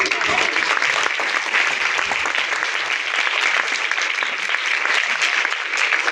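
A church congregation claps during a Christmas sermon, with dense, sustained applause filling the room at a steady, loud level throughout.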